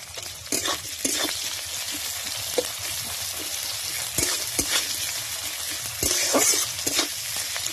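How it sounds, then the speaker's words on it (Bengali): Onions and green chillies frying in a pan over a wood fire, a continuous close sizzle broken by repeated stirring scrapes and clinks of a spoon against the pan, no speech. "যত পেঁয়াজটা একটু ভাজা হবে"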